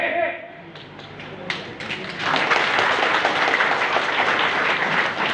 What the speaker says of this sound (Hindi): लेकिन आप लोग ताली मार रहे हैं यहां में